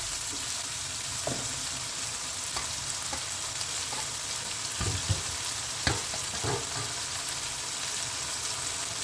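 Tomatoes frying in a pan for a parrot fish masala, a steady soft sizzle with occasional stirring clicks and scrapes scattered throughout, close and moderately quiet, with no voices.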